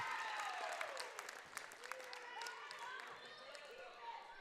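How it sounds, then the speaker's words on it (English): Spectators at a girls JV basketball game against Bellevue cheer and clap in a lively burst while a commentator keeps talking over the noise. "Brings a cheer from the Bellevue faithful."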